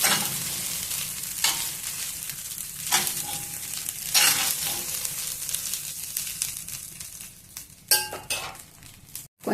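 Capsicum rice with coriander is stirred in a hot pan, a continuous sizzle broken by rhythmic scraping and occasional metallic clinks of a spoon against the pan, close and clear with no talking.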